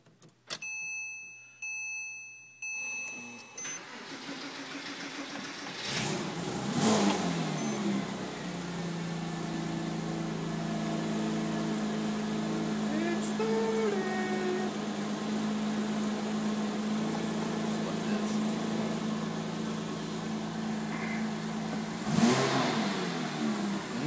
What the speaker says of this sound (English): Let's see if she fires up for the first time.